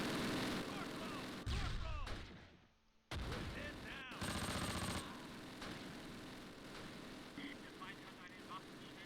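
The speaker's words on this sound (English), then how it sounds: "There's a bazooka firing." Explosive blasts and gunfire from a bazooka firing in the World War II tactical video game Close Combat, Normandy hedgerow battle, with loud bursts amid ongoing battle noise and a voice talking over it.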